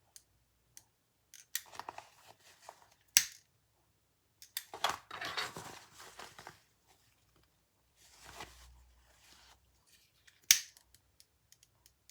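Scissors cutting fabric for a crossbody bag, scattered close snips and rustles of material in irregular bursts separated by quiet pauses.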